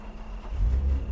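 In a horror video game, a car engine idles with a low, steady rumble that swells slightly, with no talk over it.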